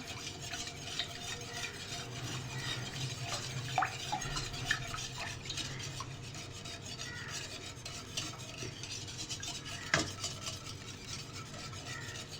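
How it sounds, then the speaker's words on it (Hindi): Milk with egg being stirred in a pot over a slow flame for a custard seviyan dessert, a continuous quiet scraping and rubbing of a spoon against metal with a few faint clinks, alone. "आपने मुसलसल अंडा डालने के बाद जो है इसको चलाते रहना है।"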